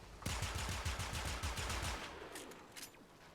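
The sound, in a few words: heavy gunner firing machine gun in video game Warframe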